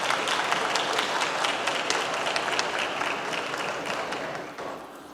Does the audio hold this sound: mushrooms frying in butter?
no